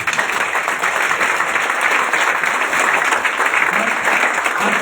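Audience at a volunteer workers' meeting for an Ashvamedha Yagya in Mumbai clapping together, loud, dense and continuous for about five seconds, with no talk on top.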